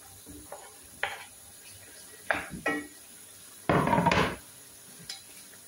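Onion frying in a pan, heard as several short bursts of stirring and scraping, with one longer, louder sizzling rush partway through and quieter kitchen sounds between.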